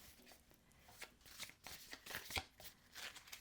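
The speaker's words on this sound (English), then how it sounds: "I'm such a slow shuffler anyway" A deck of tarot cards is slowly shuffled by hand, with soft, irregular riffling and slapping bursts close by, quiet and unhurried.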